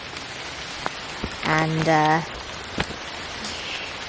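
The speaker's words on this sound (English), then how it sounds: "It's so rainy." Pouring rain outdoors in Knole Park patters as a steady wash of drops, while a voice and a few brief vocal sounds and clicks rise over it near the middle.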